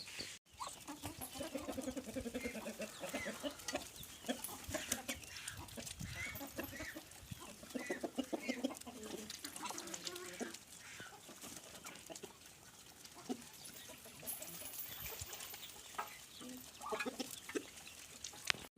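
A flock of ducklings peeps and chirps eagerly and continuously close by, begging for feed, with a few clucking calls mixed into the busy chatter.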